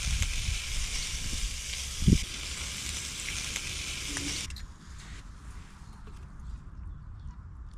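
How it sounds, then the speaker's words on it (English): A stir fry sizzles in a frying pan on a Jetboil camping stove on a riverbank, a steady close hiss with a brief clatter partway through, then the sizzle drops away to quieter outdoor ambience. "just cooking up a nice stir fry"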